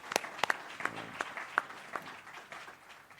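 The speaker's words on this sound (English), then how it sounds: "We want to give you a round of applause." Scattered audience applause in a hall after thanks to colleagues at an EU visit to a counter-mobility site, a handful of separate sharp claps rather than a full ovation, moderately loud and brief.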